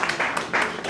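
Audience at a civic governance event breaks into brief, steady applause, a dense patter of clapping hands with rhythmic bursts.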